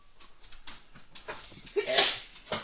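A sharp sneeze bursts out near the end, with soft voices and faint shuffling before it.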